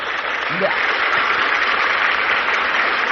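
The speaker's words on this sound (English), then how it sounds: "Yes, round of applause." An audience applauds a podcast host, a dense, loud, even burst of clapping that lasts throughout, with a brief spoken word near the start.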